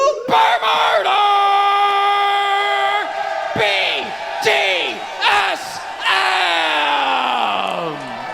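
A crowd at an independent wrestling show cheers and chants loudly and continuously, with rising whoops and yells swelling and falling around voices in the arena.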